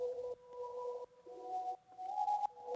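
A heavily processed vocal chop drenched in reverb, distortion and OTT compression with sidechain pumping, playing as sustained tonal phrases that shift pitch in short held segments, loud and upfront with no talking.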